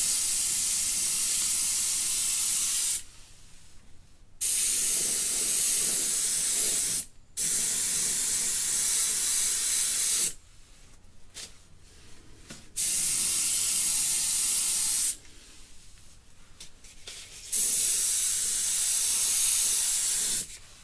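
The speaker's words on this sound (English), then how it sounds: "It with a .35 tip, it puts out some spray for sure." An airbrush with a .35 tip sprays solvent-based candy paint in repeated bursts of steady hiss, each lasting one to three seconds with brief quiet gaps between, close and fairly loud.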